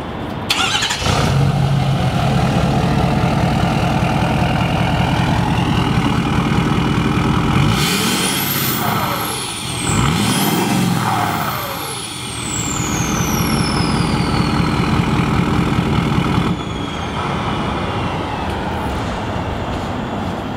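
A 2012 Ford F550 armored truck with a 6.7 liter diesel and a performance tuner starts up and settles into a loud, steady idle, with brief high whining sweeps and a short dip in the middle.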